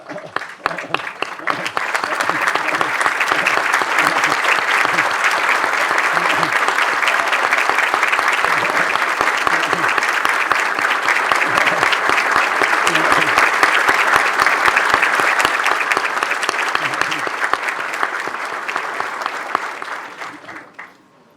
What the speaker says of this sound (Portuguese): eu pediria um aplauso de pé